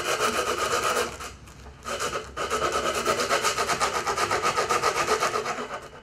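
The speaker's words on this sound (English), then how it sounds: "roll it right around like that, and you can get right in that circle and sand all those loose pieces off." Coarse sandpaper rasps back and forth inside a curved channel cut in pallet wood, a close, steady rhythmic scrubbing with a short pause partway through.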